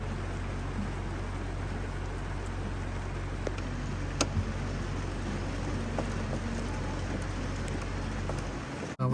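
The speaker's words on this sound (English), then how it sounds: "Oh, it is raining." Rain falls on a boat hauled out at a boat yard, a steady hiss of drops drumming on the hull and deck with occasional sharper taps, constant throughout and close by.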